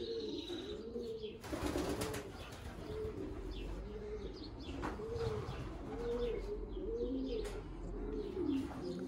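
Pigeons cooing in soft repeated throaty rolls, several birds close by, with occasional wing flaps and rustling in the background.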